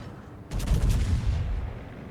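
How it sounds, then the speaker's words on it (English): Battleship guns firing at a Mars in World of Warships: one heavy booming salvo after a quiet start, followed by a long rumbling decay. "I take blind shots at this Mars."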